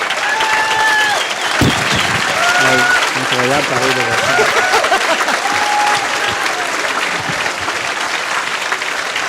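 A dinner crowd rises in a loud standing ovation, dense sustained clapping filling the room with cheers and voices calling out over it, close and continuous.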